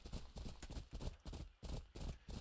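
Horse hooves clip-clop in the survival video game Rust, a steady, close run of roughly a dozen evenly spaced hoof strikes in a brisk rhythm.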